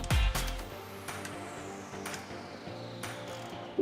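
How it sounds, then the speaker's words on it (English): An 8mm socket on a ratchet loosening bolts under the steering column cover of an Audi A8 D4, giving a close, quiet run of rapid clicking pawl ticks with a few louder knocks. "using an 8mm socket, remove 6 bolts from under steering wheel column cover"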